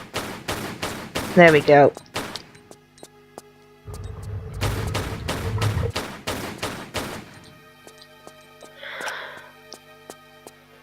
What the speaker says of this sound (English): But you can get a couple of shots off on him.